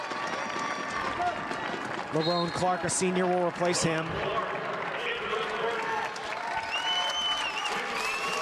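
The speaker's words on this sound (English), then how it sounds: "5'10" senior gets a nice hand from the crowd of Elmont supporters as he checks out." Spectators at a high school basketball game give a player applause as he checks out. Steady crowd clapping sits under an announcer's talk, with squeaking sneakers, whistles and gym noise around it.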